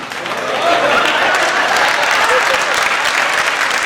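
An audience at a Hindi comedy poetry gathering (hasya kavi sammelan) bursts into applause, the clapping swelling after the first half second into a dense, sustained wash of many hands that carries on to the end.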